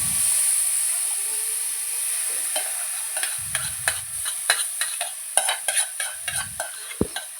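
Mashed banana being stirred into semolina fried in ghee, with a steady sizzle and a run of spoon scrapes and knocks against the pan that grow sharper toward the end.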